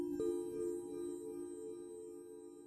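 A sustained synthesized tone in Ableton Live sits behind a diffusion effect that smears it like reverb, with a soft click near the start and a steady, faint ringing wash of stacked overtones that slowly decays.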